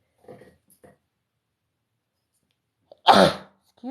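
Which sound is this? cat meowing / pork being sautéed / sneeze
sneeze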